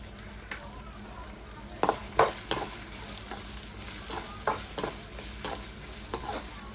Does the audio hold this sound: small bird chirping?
no